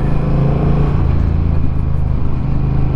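Honda Rebel 1100 motorcycle engine running loud and close as the throttle is rolled on and off, a dense, steady low rumble with slight shifts in pitch.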